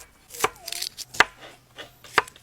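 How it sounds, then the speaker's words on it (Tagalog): Onion and garlic being chopped with a knife on a board, giving three sharp, close chops spaced apart with small handling noises between them and no speech. "maggayat naman tayo ng mga kailangan natin, like sibuyas at bawang"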